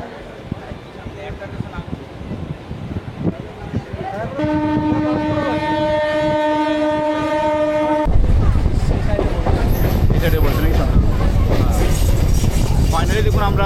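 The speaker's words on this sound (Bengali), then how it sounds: "আমরা সাঁতরাগাছি স্টেশনের মধ্যে আমাদের ট্রেন এন্ট্রি করছে" A Digha to Howrah local train pulls into Santragachi station, wheels rumbling and clattering under the carriage. A loud, sustained horn blast sounds midway, and the rolling roar grows heavier toward the end as the train draws in.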